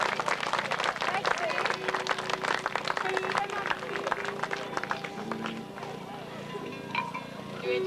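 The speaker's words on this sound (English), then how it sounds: "how about a big round of applause?" An audience claps in a big round of applause at a live stage event, with sharp, dense claps at first that thin out and fade toward the end, with voices faintly mixed in.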